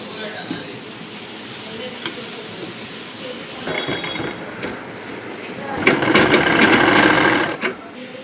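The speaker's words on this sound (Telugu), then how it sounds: "దీనికి పెట్టి ఇలా కుట్టు కుట్టాలి" Sewing machine stitching a shirt in a tailoring class, a steady mechanical whir that builds louder near the end, with someone speaking over it.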